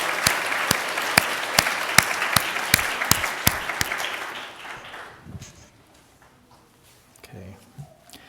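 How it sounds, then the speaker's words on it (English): A round of audience applause at a Hoonko Buddhist service, sharp individual claps ringing out over a broad clapping wash that thins and fades away, leaving quiet room noise and a few scattered sounds. "So if you could please give them another round of applause."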